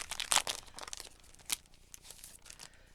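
A plastic sticker packet is torn and crinkled open at close range, a run of sharp rustling and crackling bursts that grow sparser and fainter toward the end.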